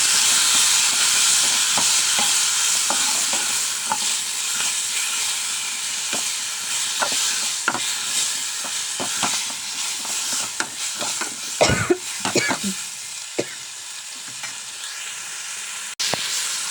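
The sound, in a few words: tomatoes frying in a pan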